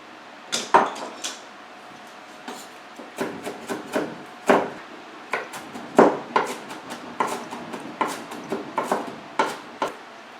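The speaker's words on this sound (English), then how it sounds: "I'm going to finally just give it a chop here" A kitchen knife chops bagged coleslaw mix on a cutting board, giving a steady run of crisp, close chops, some quick and bunched, others spaced apart, with no talking.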